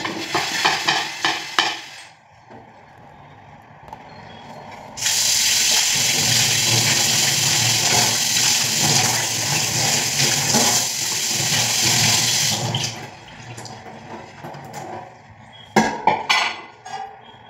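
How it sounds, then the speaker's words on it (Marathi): A blackened, sticky tawa griddle pan scrubbed clean, loud sustained scrubbing in the middle with clattering metal knocks at the start and end. "तर आता मी हा तवा पण त्याच प्रकारे घासून घेते."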